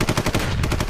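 A rapid burst of gunshot sound effect, loud and close, firing in a steady machine-gun rhythm for about a second with no voices over it.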